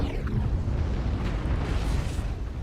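Artillery strike in MechWarrior Online pounding down as a continuous, loud rumble of overlapping explosions, deep and rolling with scattered bursts, no voices.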